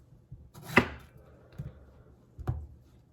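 A knife chops a Roma tomato into tiny pieces: a few sparse, crisp strikes against a cutting surface, close and fairly quiet, with pauses between them.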